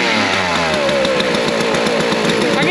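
A chainsaw that has just been reassembled, not rebuilt, and was probably flooded with too much fuel runs loud and close at high revs. Its engine note wavers and rises unevenly, as if sputtering just after starting.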